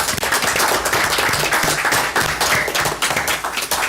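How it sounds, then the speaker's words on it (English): Loud, close applause from a room full of people, sharp individual claps blending into a continuous roar. "I would like to give them a round of applause."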